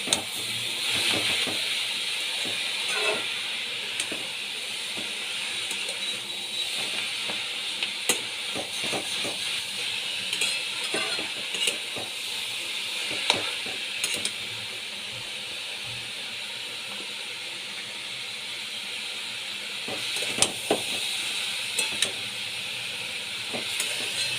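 Potatoes being fried with cabbage for a vegetarian dish: a steady, fairly soft sizzle and hiss throughout, with occasional light stirring clicks.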